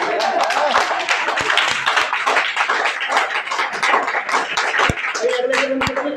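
An audience at a political gathering in Malviya Nagar, Delhi claps in a dense, sustained patter, with a voice speaking over the applause.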